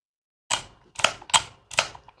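The lever on a Gobo magnetic hair clipper clicks four times, sharp, close and distinct, spaced a fraction of a second apart in a quiet room.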